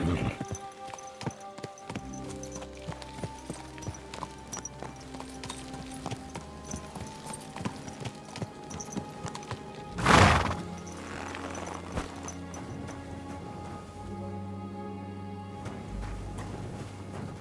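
A horse in the medieval game Kingdom Come Deliverance 2 clip-clops along with a loud neigh midway, set among layered game sound and music.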